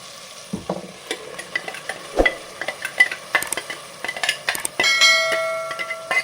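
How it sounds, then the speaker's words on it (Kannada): Ground masala frying and bubbling in a pan on low heat for a raw jackfruit pulao, with a soft sizzle under repeated scraping stirs and occasional metallic clinks of the spoon. "ನೋಡಿ ಮಸಾಲೆ ಚೆನ್ನಾಗಿ ಕುದೀತಾ ಇದೆ"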